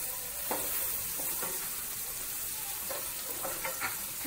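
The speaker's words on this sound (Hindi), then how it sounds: "मैं थोड़ा सा प्याज को गुलाबी होने तक रोस्ट कर लूंगी।" Chopped onions roast in a pan over medium-high flame, giving a soft continuous sizzle with occasional gentle stirring clicks and scrapes, without speech.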